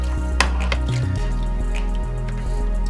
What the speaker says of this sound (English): I'm just going to pour this over the potato